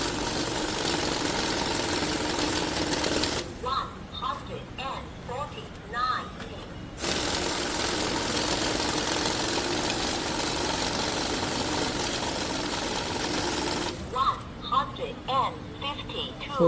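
A cash counting machine runs through a stack of banknotes, giving a steady mechanical whirring and rattle that alternates with stretches of close talking.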